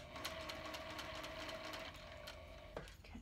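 A sewing machine stitching down a seam on a fabric face mask, a steady rapid mechanical whir with fine repetitive needle clatter, close and continuous, slowing briefly near the end.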